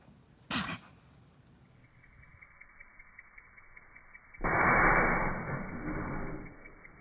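A single sharp, snorting sneeze from a bull, followed by quiet, then a loud rustling, shuffling noise of hay lasting a couple of seconds.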